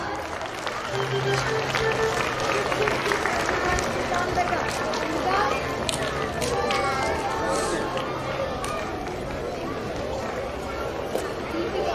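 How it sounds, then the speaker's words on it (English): Steady, dense audience applause at a kindergarten graduation day at St. Pius X High School, Ramnagar, continuing at an even level throughout with faint voices and crowd murmur mixed in. "Audience, please give them a big round of applause."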